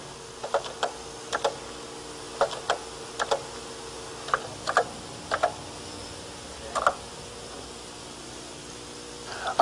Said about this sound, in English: enter the name of the new task from the keyboard